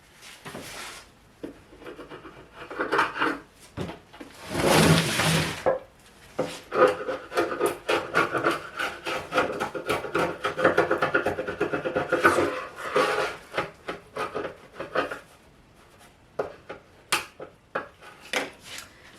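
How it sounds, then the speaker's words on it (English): Dried glue squeeze-out is scraped off three glued-up wooden butcher block boards for a table top, with intermittent rasping scrapes and scattered knocks, one long heavy scrape standing out, close and moderately quiet. "Now that I have the glue squeeze out all scraped off the three boards"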